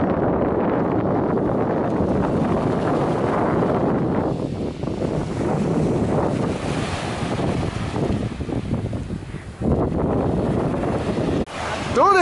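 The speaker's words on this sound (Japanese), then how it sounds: "波がね、この波音もいいよね。" Night sea waves at Zushi beach wash and rumble in a loud, continuous roar close by, with a swell that surges and briefly dips, while people talk over the surf.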